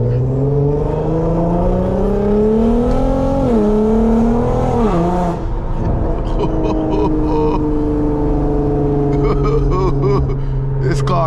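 A 400whp Infiniti Q50s at night pulls hard with a loud, droning exhaust whose pitch climbs through gears, then settles into a steady cruise, heard from inside the car with someone talking over it.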